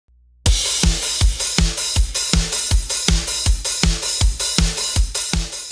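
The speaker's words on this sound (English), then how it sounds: "I chose to create this simple drum pattern" Simple drum pattern for an anime-style rock opening, a regular kick and snare beat with cymbal wash, loud and alone, starting after a brief silence and repeating steadily.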